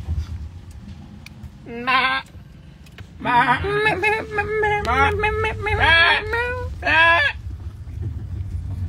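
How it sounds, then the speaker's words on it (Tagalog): A goat bleats several times outdoors at a gathering in Boracay. Wavering, nasal cries come in close bursts over a low background rumble. "Oh shit, that's a goat."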